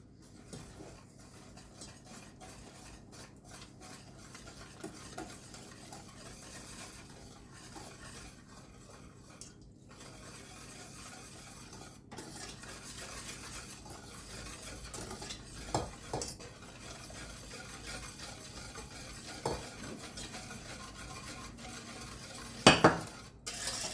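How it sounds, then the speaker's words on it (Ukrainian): Quiet, continuous stirring as hot milk is poured into an egg mixture in a pan, with occasional clinks of a utensil against the rim and a faint sizzle underneath. "І так по чуть-чуть струйкою буду вливати і помішувати."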